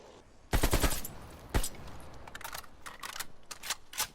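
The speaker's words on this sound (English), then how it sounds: "And that's how the AKS-74U should be reloaded" An AKS-74U reload in a video game: a sharp burst of metallic clacks, a single loud snap, then a string of lighter clicks and rattles, close and dry, with no talk.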